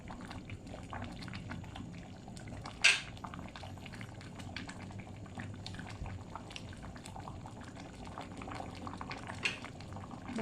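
A pot of khi lek curry boils hard with a continuous faint bubbling and gurgling, broken by a couple of brief sharp clinks of a utensil against the pot.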